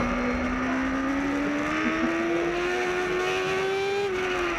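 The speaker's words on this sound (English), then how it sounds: "Jesse James in second with Lakovich hot on his heels as they make their way through turn 6" A racing motorcycle in an MCRA GT race at Gateway accelerates through a turn, its engine note a loud, steady whine rising gradually in pitch, then easing slightly near the end, heard alone without commentary.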